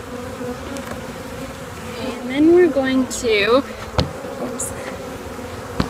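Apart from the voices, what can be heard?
honeybees buzzing while installing a bee package in a hive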